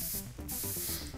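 A short paint-spray effect in a Jackbox party game, a continuous loud hiss with a soft rhythmic pulse beneath it and no voices.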